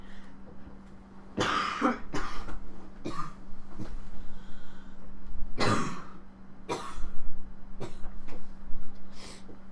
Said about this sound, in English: Sorry, I was coughing again.